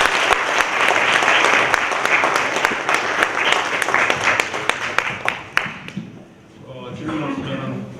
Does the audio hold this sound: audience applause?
yes